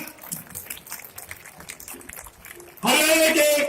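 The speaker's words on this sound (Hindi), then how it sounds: "जोरदार तालियों के साथ" Loud crowd applause and cheering at a political rally in Jind, bursting in near the end after a stretch of amplified speech from a speaker addressing the audience.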